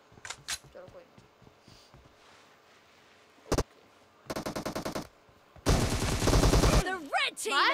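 An M249 light machine gun fires in the mobile battle royale game BGMI. A single shot is followed by two long, rapid bursts of close gunfire, separated by quieter gaps with some talk.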